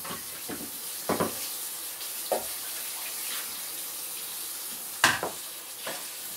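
Tap water running steadily into a bowl at a kitchen sink as it is quickly rinsed out, a constant hiss broken by a few sharp clinks and splashes.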